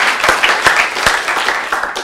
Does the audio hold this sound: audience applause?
yes